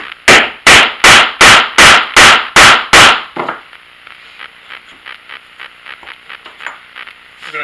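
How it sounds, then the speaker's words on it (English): A mallet rams pyro clay down into a tube over spindles: eight loud, evenly spaced heavy thuds, followed by a run of softer, quicker taps that fade out. "So we're going to ram this clay with our mallet."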